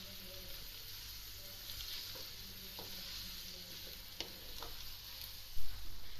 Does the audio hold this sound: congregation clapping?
no